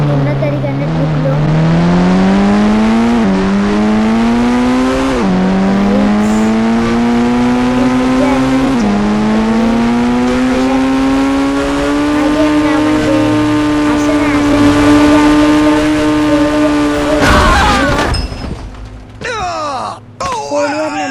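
A video-game car engine revs loudly and continuously close up, its pitch climbing in repeated steps as it shifts gears, then cutting off into clattering noise near the end.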